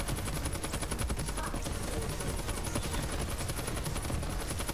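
Rapid, continuous gunfire from a gun in Borderlands 3, a steady dense stream of shots at constant loudness throughout, with no talking.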